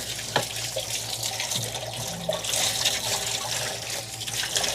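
Water rinsing through the live well tank of a boat, a steady hissing flow with splashing and gurgling, close and continuous, with no talking.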